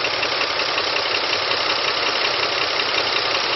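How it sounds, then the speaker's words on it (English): A 2004 Ford F-150 XLT engine idling with a slight miss, a steady, loud, broadband rumble and hiss recorded close, with no talking. "Slight miss in the motor."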